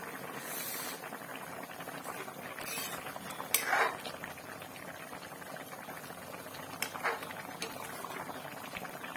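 Greens and fish simmer together in a pot for an Assamese fish-and-greens dish, a steady low bubbling and hiss with a couple of faint clinks of utensils against the pot.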